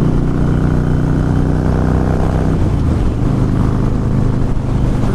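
Harley-Davidson Fat Boy S motorcycle being ridden on a desert ride, a steady loud engine rumble throughout, close and continuous with no talk.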